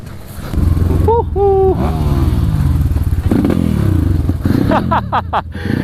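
Motocross dirt bike engine revving loudly and continuously at a private junior event track, with rising rev sweeps and clattering thuds, people talking under the engine noise.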